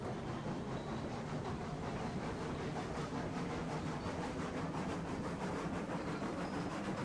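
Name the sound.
train getting rolling in the video game Railroads Online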